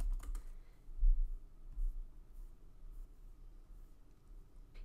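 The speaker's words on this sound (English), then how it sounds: "I'm going to click on my images and I typed in fall leaves" Faint, soft typing on a computer keyboard, quick scattered keystrokes heard up close in a quiet room.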